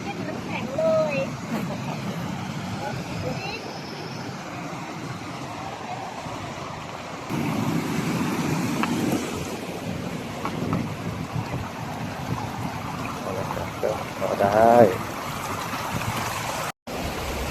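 Continuous rushing water of a forest stream beside a walking trail, with people talking and bird calls mixed in over the flowing sound.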